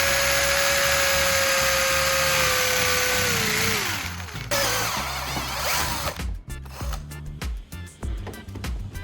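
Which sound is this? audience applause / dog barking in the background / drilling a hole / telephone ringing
drilling a hole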